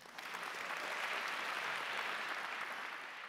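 An audience at a literary gala claps steadily, a dense, even wash of applause that swells in quickly and holds at full strength to the end.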